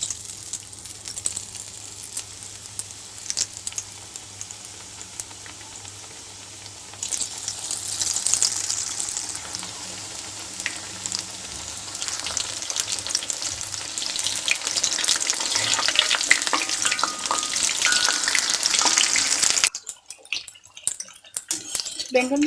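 Eggplant slices dipped in gram-flour batter deep-fry as pakoras in hot oil, a steady loud sizzle that swells as more pieces go in, with occasional utensil clinks, stopping abruptly near the end.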